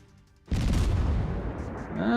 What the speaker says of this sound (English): Decently aimed salvo